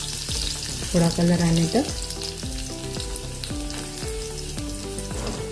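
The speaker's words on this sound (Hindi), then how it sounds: "तेल गरम हो गया है, थोड़ा सा इसमें जीरा डालेंगे।" Cumin seeds and coarsely pounded garlic fry in hot oil for methi sabzi, giving a steady close sizzle with bursts of louder crackling and repeated scraping stirs. A voice speaks briefly over the cooking.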